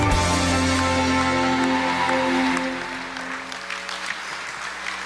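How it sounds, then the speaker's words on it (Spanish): A church congregation in Mexico applauding, sustained dense clapping from a large crowd over an organ or keyboard chord, tapering somewhat toward the end. "Recibamos con un fuerte aplauso la palabra de Dios."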